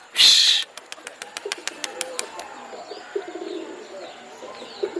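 Three pigeons released to fly, giving a loud burst of wing flapping at the start followed by a run of sharp rhythmic wing claps and scattered faint bird calls as they climb away.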